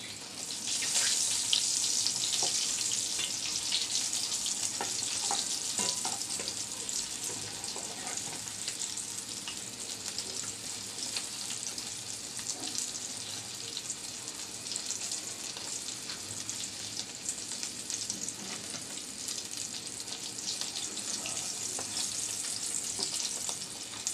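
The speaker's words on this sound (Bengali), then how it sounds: "ভালো করে দুই সাইডে আমি উল্টিয়ে পাল্টিয়ে মুচমুচে করে বেঁধে নিচ্ছি" Loitta fish coated in egg frying crispy in a pan, a steady loud sizzle and crackle running continuously for the whole stretch, with occasional soft clinks and scraping of turning pieces, no voices.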